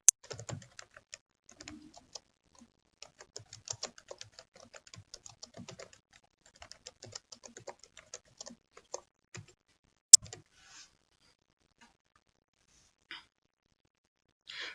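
Computer keyboard typing while entering a pavement item description in planning software: bursts of quick, light key clicks with short pauses, close and clear, ending in sparser isolated taps.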